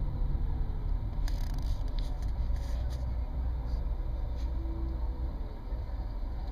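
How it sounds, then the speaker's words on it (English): Cabin of a Nissan LEAF electric car driving around Mission Viejo: a low steady rumble of road and passing traffic with the vent running, faint muffled radio from other cars and a few brief ticks. "the only sound that you can hear inside this car is other cars and their radios and the vent working"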